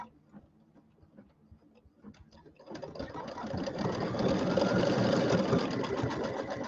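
Embroidery sewing machine stitching chenille on a penguin mug rug: soft sporadic ticks at first, then a loud, steady, fast whirring and clatter of the needle running continuously up close.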